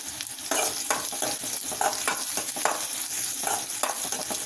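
Cumin seeds sizzling in hot oil for a pumpkin gravy, a dense continuous crackle and hiss with light stirring scrapes through it, close and steady with no voices.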